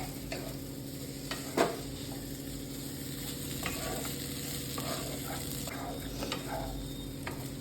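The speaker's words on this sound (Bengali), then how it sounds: "দেখুন, আমার এই চালটা ভাজা হয়ে গেছে। এরপর আমি এর মধ্যে যে ভেজে রেখেছিলাম আলুটা দিয়ে দিচ্ছি।" Fried rice being stirred with already-fried potatoes in a hot pan, a steady loud sizzle under repeated scraping stirs and a few sharp clinks of the spoon against the pan.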